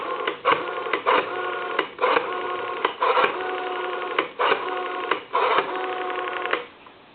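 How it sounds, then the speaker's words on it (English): A Western Electric rotary telephone on a repair bench gives a steady dial tone, broken by the rhythmic clicking interruptions of the rotary dial pulsing out a number, close and clear with no voices. "Give you some dial tone, and I'll dial my number."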